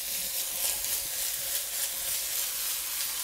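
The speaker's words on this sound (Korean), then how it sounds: "네, 이제 프라이팬에다가 도라지를 넣고 볶아주세요." Bellflower root (doraji) stir-frying in a frying pan, giving a steady, dense sizzle and hiss that runs evenly throughout at close range, with no voices.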